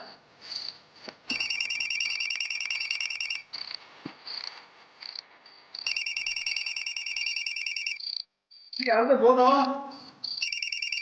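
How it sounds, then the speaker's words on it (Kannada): A telephone rings inside a home in a Kannada TV serial scene, sounding as loud, close electronic bursts repeated several times, with brief speech between the rings. "ನಿಮ್ಮ ಮಾವ ಫೋನ್ ಮಾಡ್ತಿದ್ದಾರೆ"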